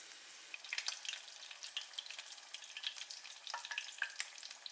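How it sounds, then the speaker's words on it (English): Shrimp coated in potato starch and tempura flour deep frying in hot oil, a steady close crackle and sizzle with scattered bright pops throughout, no voices. "Lightly coat the shrimp in potato starch, then dip in tempura flour and deep fry until golden brown."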